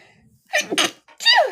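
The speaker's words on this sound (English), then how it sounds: "I'm sure I'm going to sneeze at some point in time" A single close sneeze with a sharp intake of breath first, then the burst, in a quiet room.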